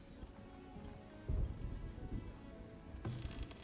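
Steady rain patters in the Farthest Frontier video game, a soft continuous wash with a couple of low rumbling thumps and a brief brighter burst near the end, no voices.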